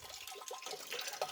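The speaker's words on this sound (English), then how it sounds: "Sorry, don't mind the trickling." Water trickles from a hose into a pig pen, a faint, steady splashing and bubbling that continues throughout with no other sounds.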